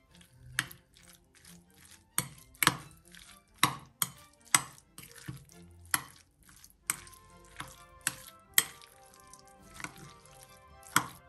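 A spoon works through a cod liver salad in a bowl, making a dozen or so sharp, irregular clicks and taps against the dish over quiet background, with no talk.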